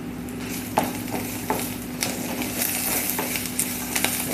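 Cinnamon, bay leaf, cloves, black peppercorns and onion frying in a pan for paneer masala, with a steady soft sizzle, a spoon stirring and occasional metallic scrapes and clinks close by.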